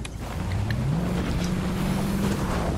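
Steady low engine drone of a car driving in a battle royale video game, a continuous hum with slight rises in pitch, loud and alone without talk.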